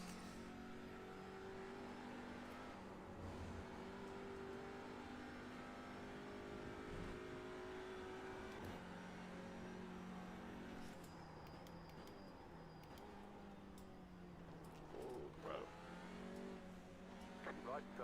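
Race car engines in iRacing at Thruxton during a four-hour race, a steady droning engine note with shifting pitch and revs, heard under ongoing talk.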